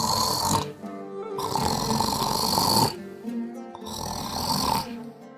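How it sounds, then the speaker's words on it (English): A drunk man asleep snoring loudly and close by, with three long rasping snores in a steady rhythm separated by short quiet breaths, no talking. "soon the poor man became drunk and fell asleep snoring."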